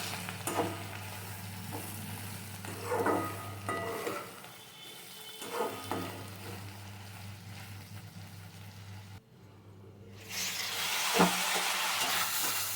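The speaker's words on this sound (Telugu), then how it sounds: "ఇవి మాడకుండా మధ్య మధ్యలో కలియపెట్టుకుంటూ కూర కొంచెం ఫ్రై అయ్యే వరకు ఉంచుదాం." Beans curry frying in a pan while it is stirred now and then, a low sizzle broken by several clattering stirs and scrapes of the spoon against the pan, close by, with a steady hum under it and no speech.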